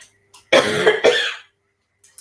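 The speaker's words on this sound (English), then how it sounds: "I'm going to cough." Two quick, harsh coughs close up, back to back, with silence around them.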